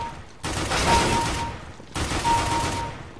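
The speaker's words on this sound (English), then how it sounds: "That's what it looks like using rapid fire." A rapid-fire mouse macro drives a video game weapon, making two dense bursts of fast gunshots that each run about a second, separated by a short gap, loud and close.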